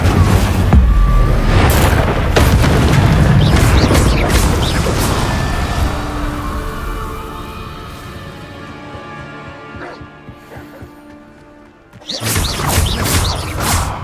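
Spell effects crash and boom in a Hogwarts video game, with Incendio fire bursts among dense clattering impacts, then a fading rumble before another loud burst of action.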